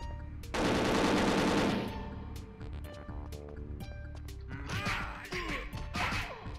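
Bursts of automatic gunfire from weapons testing in the video game Perfect Dark: a dense, loud volley for about a second, then scattered softer shots and clatter with a second busy flurry near the end.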